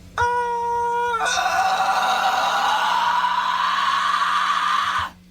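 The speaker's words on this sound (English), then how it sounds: "I'm going to demonstrate how to gradually add vocal fry into a head voice note" A clean head-voice note sung alone, which after about a second turns rough and gritty as vocal fry is layered in. The distorted, buzzy scream-like tone is then sustained for roughly four seconds before cutting off.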